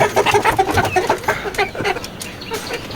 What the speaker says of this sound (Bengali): আরও ছয়টা মুরগি একটা মোরগ খুব ভয় পায়